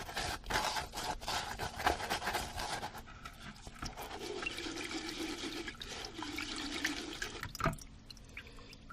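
Water is poured and sloshed during a soil organic matter demonstration, a close, splashing liquid rush that trickles and gurgles with a few sharper drips and clinks, with no talking.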